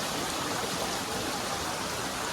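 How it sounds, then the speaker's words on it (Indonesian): A mountain stream rushes beside a wet, rocky trekking trail on Mount Salak toward Kawah Ratu, where overflowing water floods the path. It makes a steady, loud, continuous wash of water with no voices. "jadi sungai yang meluap atau aliran air yang meluap ini menggenang di jalur trekking kita"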